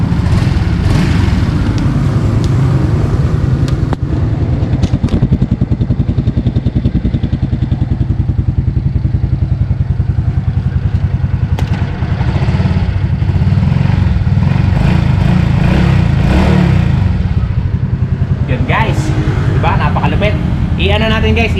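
A 2024 Suzuki Smash 115 FI fuel-injected motorcycle engine idles steadily at close range, a continuous low rumble with light mechanical clatter throughout.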